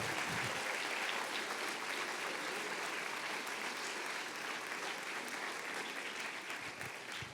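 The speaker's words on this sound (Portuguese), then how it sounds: "se vai aplaudir, aplauda forte" A church congregation applauds loudly and steadily throughout, a dense, continuous wash of clapping filling the room with no talk over it.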